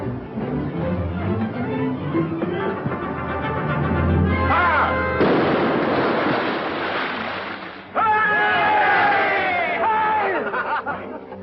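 A ship's cannon fires during gunnery practice at sea, a sudden heavy blast midway followed by a second boom, over waves and background voices with people talking.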